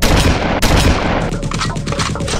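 Rapid bursts of sci-fi gunfire crackle loudly and densely in a Halo stop-motion battle, with a sharp shot early and overlapping volleys continuing throughout.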